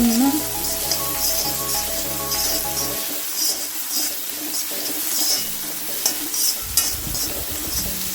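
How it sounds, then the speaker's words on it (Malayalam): Onion frying in a hot pan, a steady loud sizzle with stirring scrapes, and a low tonal hum that fades after the first few seconds. "ചൂടായി വരുമ്പോൾ നമുക്ക് ഈ സവാള ഇതിൽ ചേർക്കാം"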